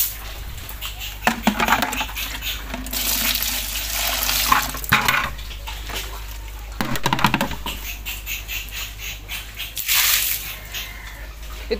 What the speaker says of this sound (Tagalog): hinihigop nila yung tubig